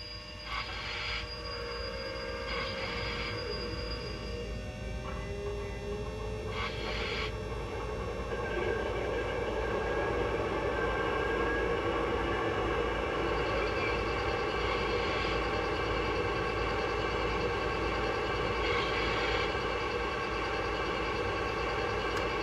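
A Lionel O scale Norfolk Southern ET44AC model locomotive plays its GE diesel idle sound, a steady low rumble with mechanical hum that grows fuller partway through, running alone without talk for over twenty seconds.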